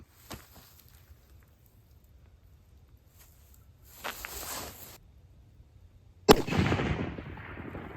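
A single sharp 7mm magnum rifle shot fired at a 400-yard target, loud and close, with a long rolling echo trailing off behind it; a brief bit of noise is heard earlier in the clip.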